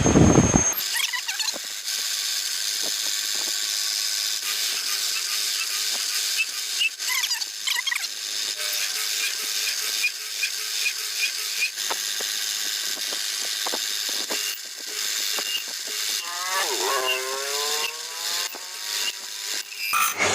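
A handheld rotary tool whines steadily as it drills into and engraves patterns on a painted lid, with a high, continuous buzz broken by scraping bursts and pitch swoops as the bit bites, close up and without speech.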